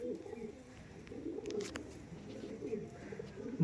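An Andhra pigeon gives faint, low, rolling coos at close range, repeated in a soft murmur over quiet background noise.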